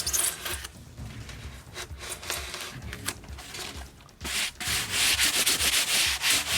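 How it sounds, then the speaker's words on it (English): Foam carved into weathered-looking stone for a Halloween tombstone, giving steady scraping and rubbing strokes up close, rough and continuous, louder toward the end. "It's like you're scooping out a little triangle of"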